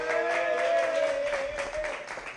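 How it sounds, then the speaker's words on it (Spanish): Soft applause from a live studio audience for Mel Kantz, a fairly faint patter of clapping with a sustained tone running beneath it. "Fuerte el aplauso para Mel Kantz,"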